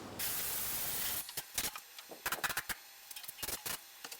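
A spray can of primer hisses loudly for about a second, then stops, followed by scattered clicks, taps and light clatter nearby, while priming a 1957 Volkswagen oval Beetle.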